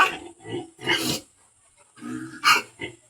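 Hungry pigs in a backyard pen grunting and snorting at close range, several rough, irregular bursts with short pauses between them and no talking over them.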